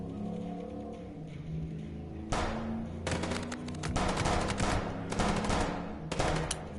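Rapid bursts of gunfire from the video game Chicken Police, sustained volleys of shots starting abruptly partway through and repeating in dense clusters, loud and close over a low musical background.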